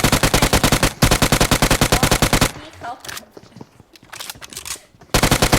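Rapid automatic gunfire in the battle royale game PUBG, loud sustained bursts of evenly spaced shots that stop for a few seconds of quieter noise and voices, then resume at the end.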